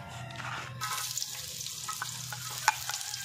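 Onions frying in a pan while being stirred: a low continuous sizzle under soft scraping stir strokes, close and steady, with one brief clink of a utensil near the end.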